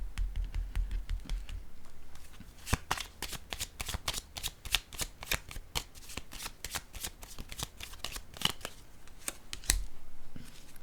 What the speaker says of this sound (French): je vais piger une carte sur le voleur